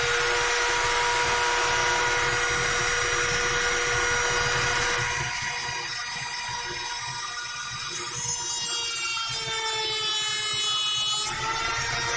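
A Dremel rotary tool cuts away the plastic side of a cowl, a steady, loud high-pitched whine with a wavering pitch that shifts partway through and continues on its own.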